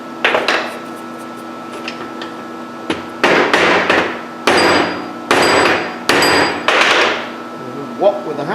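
A hammer strikes rivet wire to swell it in a hole during a surface grinder repair, about seven sharp metallic blows in uneven rhythm, close and loud, each with a short ringing decay.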